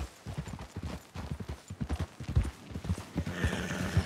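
Horse hooves clip-clop at a steady walking pace in Red Dead Redemption 2 as a wagon is driven along, loud and close, with a faint whinny toward the end and no talk.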